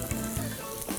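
Meat and salmon burger patties fry in a pan with a constant close sizzle and faint crackles, and the frying goes on without anyone talking.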